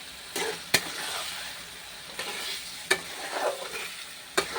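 Curry sautéed in a pan with a little water, a soft sizzle under repeated sharp spatula knocks and scrapes at irregular intervals, close by.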